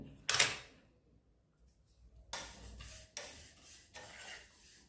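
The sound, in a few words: sesame seeds frying in a pan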